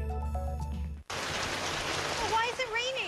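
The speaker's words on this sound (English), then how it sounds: "Why is it raining?" Steady rain falls in a television commercial, a broad hiss that starts abruptly after music, with voices speaking over it.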